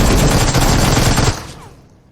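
Rapid automatic gunfire in a video game rattles out loud and close for over a second, then cuts off and fades into a decaying echo.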